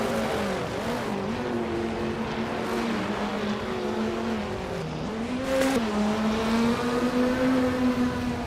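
A Porsche 935/78 race car engine drones loudly in a racing video game, its pitch rising and dipping steadily through gear changes over a constant roaring hum, no talk.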